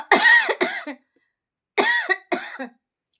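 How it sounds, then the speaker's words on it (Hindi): Two rough coughing fits, each a pair of harsh coughs, separated by a short silence, close and fairly loud. "खांसी बहुत ज्यादा है बच्चों"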